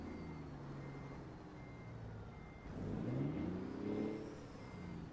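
A truck in American Truck Simulator reverses in town with steady, evenly spaced beeps over a low engine drone that swells partway through. The sound is faint and continuous, with no talking.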